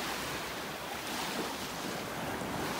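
Waves wash in at the water's edge on a North Naples, Florida beach: a steady, close hiss of surf with wind buffeting the microphone and no voices.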